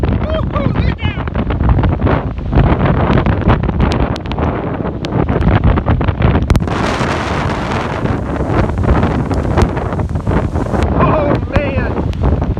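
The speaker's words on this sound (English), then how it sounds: "These winds are over 30 miles an hour." Strong storm winds of about 30 mph from Eta batter the microphone on the shore of Tampa Bay, a loud continuous roar with gusts, waves and water underneath, while someone talks excitedly over it.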